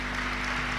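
A congregation claps at a jubilee Mass celebrating a bishop's fifty years of priesthood, a dense, steady wash of applause that is brief, loud and continuous, without distinct individual claps.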